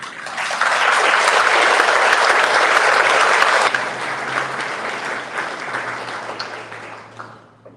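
Applause from the audience at a chamber of commerce annual awards ceremony as a former board chair comes up to receive a gavel, steady loud clapping that fades gradually toward the end, with no talk over it.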